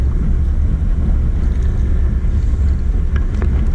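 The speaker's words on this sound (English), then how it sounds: "That wind is really gusting right now." Strong wind buffets the microphone in a steady low roar while fishing for crappie, rising and falling in gusts, with faint water sounds beneath and no voices.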